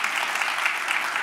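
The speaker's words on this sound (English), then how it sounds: "you deserve some applause for that" A brief burst of steady audience applause at a book event, dense and even clapping throughout.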